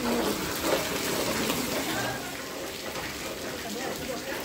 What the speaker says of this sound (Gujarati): તો આજ તો વહેલી સવારથી જ વરસાદ ચાલુ થઈ